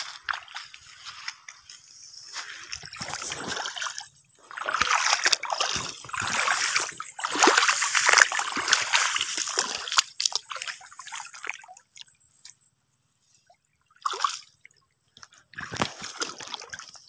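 Water in a river splashes and sloshes in irregular bursts while crabs are being caught, with louder busy stretches in the middle and quieter gaps between them, heard close by and with no clear talk.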